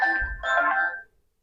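Phone ringtone during a class 10 maths lesson: a single loud electronic ring burst, two quick tonal pulses that stop abruptly, heard alone with no talk.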